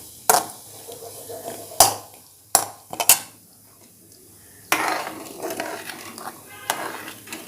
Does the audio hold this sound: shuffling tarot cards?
no